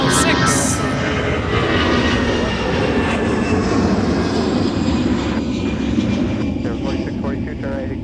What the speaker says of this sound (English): Just rotating off of runway 30 left is Delta 1306.